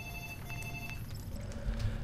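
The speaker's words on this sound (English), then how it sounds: "The good old phone ringing." A telephone rings faintly in Fallout: New Vegas, thin electronic tones repeating over a low game-ambience hum, with no one speaking.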